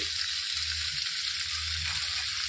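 Ridge gourd pieces for a coconut chutney cook in a pan, a constant close frying sizzle with low, soft shuffles as they are stirred, no talking.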